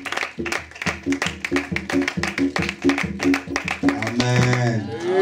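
A church congregation claps in rhythm, a steady run of sharp hand claps repeating about twice a second, mixed with singing voices and music; the clapping thins as sustained sung tones take over near the end.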